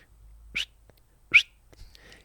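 A person whistles two short, high, rising notes imitating a chiffchaff's call, separated by a pause, followed by faint breathy sounds.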